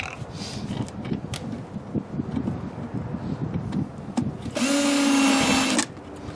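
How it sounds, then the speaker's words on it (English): Screws are driven into a 9x9 catch basin grate with a power drill, a loud steady whir of about a second near the end after scattered handling clatter and rustling. "We'll put our screws in."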